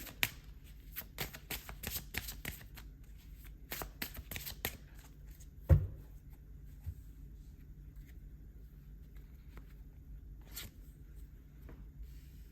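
Tarot cards are shuffled close up in a quiet room, giving bursts of crisp papery riffles and flicks with short pauses and one sharper tap midway.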